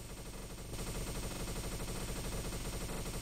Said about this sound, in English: Let's shoot this wall here.